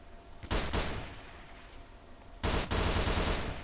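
Automatic weapon fire from M9K weapons in Garry's Mod DarkRP, two loud bursts of rapid shots, one early and one near the end, with quieter game ambience between.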